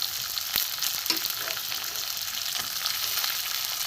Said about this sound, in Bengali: একটু টমেটো পেঁয়াজ ভাজা হোক